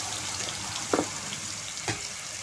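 Finely chopped onion hits hot oil with mustard seeds in a pan, giving a dense, loud, steady sizzle with two short bumps of stirring or spattering.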